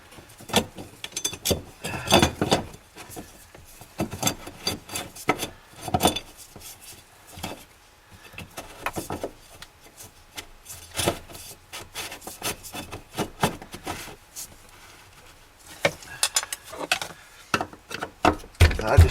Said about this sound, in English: Go ahead and put the cap back on. We'll go ahead and screw it back into place.